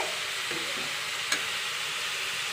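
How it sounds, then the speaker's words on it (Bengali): Potatoes fry in hot oil with a continuous, even sizzle, close and fairly loud, broken once by a small clink. "আলু ভাজতেছি, একসাথে দুই কাজ করতেছি"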